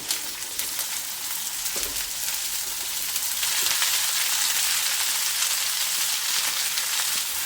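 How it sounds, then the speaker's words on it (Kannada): Chopped okra, about half a kilo, frying in a pan with curry leaves for a home-style palya: a steady, dense sizzle that swells slightly as it goes on, with no talking. "ಈಗ ನಾನೇನು ಕಟ್ ಮಾಡಿ ಇಟ್ಕೊಂಡಿದ್ದೀನಿ ಈ ಬೆಂಡೆಕಾಯಿನ ಹಾಕ್ತಾ ಇದ್ದೀನಿ"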